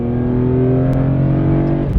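A BMW E46 M3 with a carbon fibre intake revs hard after a downshift into second gear, a loud sustained engine note with rising harmonics, heard up close on a country road.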